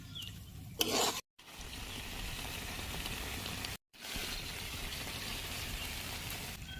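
Chicken curry cooked without oil, stirred in a pan with a little spice-rinsing water: a steady rasping scrape of a spoon against the pan, broken by two brief silences, with no voices.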